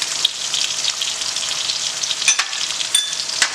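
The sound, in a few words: garlic ginger paste frying with onions in pan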